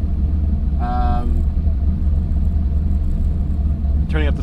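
A car engine fitted with a new turbo runs under boost with a loud, steady low rumble, while brief rising whistle-like tones cut in twice over the drone.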